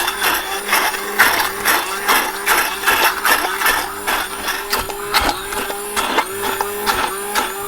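A blender purees mushrooms for soup, a steady loud whirring motor with a pulsing, chopping rhythm as the blades churn the mixture.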